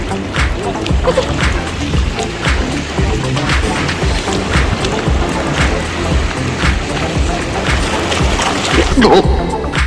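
Shallow sea waves wash continuously onto a beach as a young puppy meets the sea for the first time, a steady close splashing surf with voices partly heard under it.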